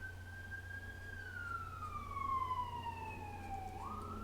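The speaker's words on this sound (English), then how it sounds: "Noisy ambulance going by." An ambulance siren wails past in a long, slowly falling sweep over a steady low traffic hum, moderately distant and fading.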